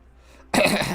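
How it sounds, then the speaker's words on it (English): A single abrupt throat-clearing cough bursts out after a brief quiet moment, close and loud. "Got a little bit of a cough."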